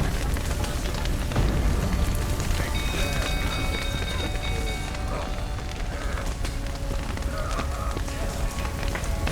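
Steady rain in The Witcher 3 game world, dense broadband patter pouring continuously throughout, with running footsteps, hoof clatter and faint tonal game sounds mixed underneath.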